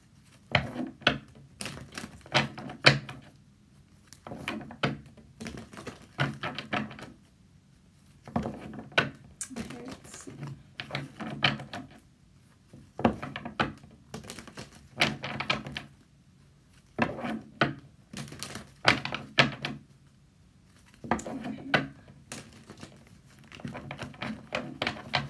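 Tarot cards shuffled by hand in repeated bursts of soft riffling and tapping, separated by short pauses, close and moderately loud throughout.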